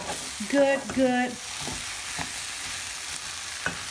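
Rice with seasoning is stirred in a pot for Puerto Rican style chicken and rice, a spoon scraping and rattling against the pot under a soft sizzle, with brief tonal clanks early on and no talking.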